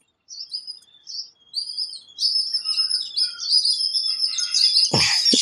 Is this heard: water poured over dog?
no